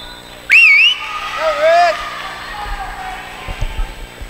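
A referee's whistle at a high school girls' volleyball tournament game gives two shrill, wavering blasts in quick succession, loud and close, followed by gym murmur and faint thumps.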